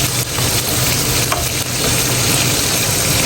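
Koi fish frying in hot oil with onion paste added, a steady loud sizzle and crackle with faint stirring throughout, no voices.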